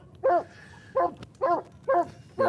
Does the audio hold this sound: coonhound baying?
yes